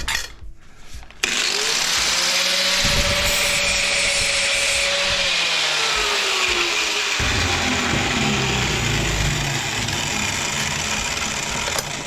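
Power grinder spark-testing a stainless steel piece from a dismantled hard drive, a loud sustained motor whine that bogs and shifts in pitch as the wheel bites the metal, then keeps running rough to the end.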